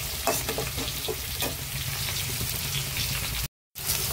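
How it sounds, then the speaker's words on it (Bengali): Tomato with ginger and garlic paste sautés in hot oil, a close, continuous crackling sizzle with stirring scrapes throughout, broken by a brief moment of silence near the end. "টমেটো দেবো, আদা বাটা দেবো, রসুন বাটা, এটাকে কষিয়ে নেব"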